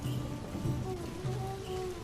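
Steady, dense stormy rain hissing continuously at midnight, like a downpour on a surface, with a low rumble underneath and no voices.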